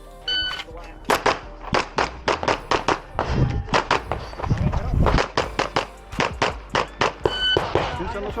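Rapid pistol gunshots ring out at a USPSA shooting match, a long string of sharp, loud reports in quick bursts with brief pauses between groups, close to the shooter.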